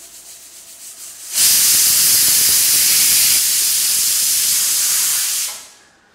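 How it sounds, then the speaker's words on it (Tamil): A pressure cooker steaming jackfruit seeds lets out a loud, steady rush of hissing steam for about four seconds, starting abruptly after a quieter stretch and fading away at the end. "குக்கரில் என்ன வெந்துட்டுருக்கு அப்படின்னா பலாக்கொட்டை தான்."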